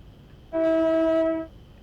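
A train horn in Train Simulator Classic on a foggy London to Birmingham run sounds one sustained, steady harmonic blast of about a second, loud and clear with no talk over it.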